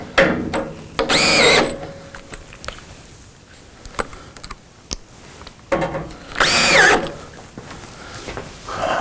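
A power drill drives screws into existing holes on an arcade cabinet during a restoration, two loud whirring bursts with rising and falling pitch separated by quieter clicks and handling knocks.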